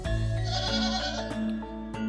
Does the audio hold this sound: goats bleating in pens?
yes